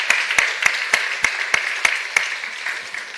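Applause fills a room at a photography awards ceremony, with a run of loud, regular, sharp claps that fade into lighter, scattered clapping near the end.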